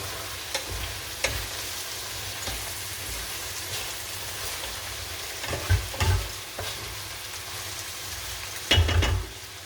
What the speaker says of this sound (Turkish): Burada da tereyağı, azıcık sıvı yağ. Şehriyelerimizi kavurdum. Şimdi pirincimizi dökeceğim.